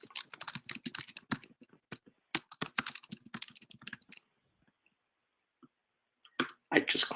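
Computer keyboard typing while entering a task description, rapid irregular keystroke clicks in bursts, then a pause of near silence before a final flurry of clicks and typing.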